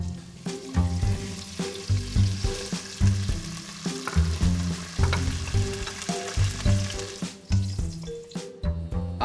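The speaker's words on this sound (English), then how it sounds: "I'm going to start by just frying my vegetables first" Green beans and pumpkin fry in a generous amount of oil in a pan, sizzling continuously with frequent clattering stirs and scrapes close up.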